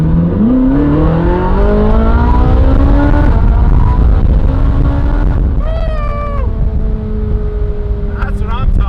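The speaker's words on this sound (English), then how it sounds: "It sounds like a Ferrari now." A Ferrari 458 engine revs loudly and runs through a series of downshifts, its pitch climbing in long sweeps then dropping with sharp blips, close and continuous, with a voice talking over it.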